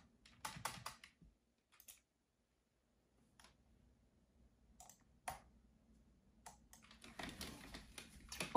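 Computer keyboard keys click in scattered short bursts with quiet gaps between them while someone plays Fortnite, ending in a denser flurry of typing; no one speaks.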